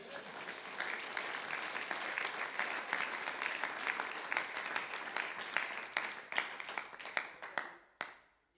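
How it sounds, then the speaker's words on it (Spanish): Church congregation at a men's congress applauding in praise, a full round of many hands clapping steadily, thinning toward scattered individual claps before stopping abruptly near the end. "Y un aplauso para el Señor Jesús."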